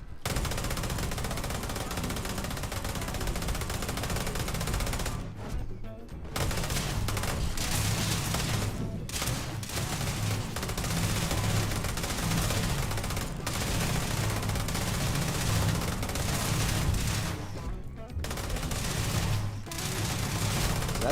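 Sustained automatic gunfire in Starfield as a follower NPC is shot, with loud continuous rattling bursts broken by a few brief pauses.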